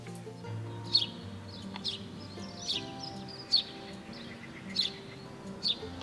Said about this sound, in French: J'aime beaucoup entendre le son des petits oiseaux dès le matin